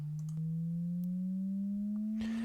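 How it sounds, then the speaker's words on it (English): A mellow Density distortion device processing a steady tone, a pure low sine that glides slowly upward with a faint harmonic above it, clean and sustained, with a brief burst of added grit near the end. "Density is a very mellow distortion device"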